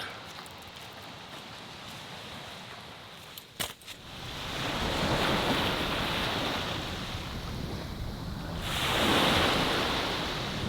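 Ocean waves wash onto a Cabot Trail beach in Nova Scotia in a steady, close surge, with a short sharp clink partway through and a louder swell building near the end.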